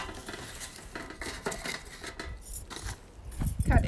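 Lid and pots clatter in a kitchen, with several close metallic clinks and knocks through the clip and a louder rattle at the end.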